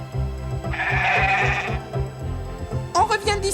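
Sheep bleat in a cartoon, one drawn-out nasal bleat followed by a shorter burst of quavering bleats, set over steady background music and sound effects.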